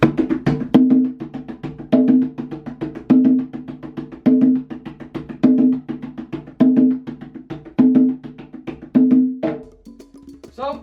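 A percussion rhythm repeats a short, steady pattern of even-volume hits in a looping groove for about ten seconds, fairly close and unaccompanied, ending with a brief scrape.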